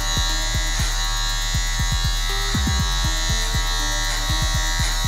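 Electric hair clippers cut a dreadlock high top fade, a steady close buzz running throughout with repeated short strokes and pitch dips as the blades bite into hair.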